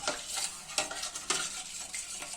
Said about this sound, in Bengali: এই কিছুটা দুধ আগে একটু ঢেলে দিয়ে আবার একটু ভালো করে নেড়ে মিশিয়ে নিতে হবে